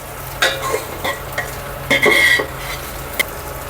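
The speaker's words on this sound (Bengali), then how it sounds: "এর ভিতর পোলাও চাল দিয়ে ভেজে নেব" Polao rice frying in a pan for khichuri, a close sizzle broken by several scraping stirs of a spatula against the pan, with a brief metallic clink near the end.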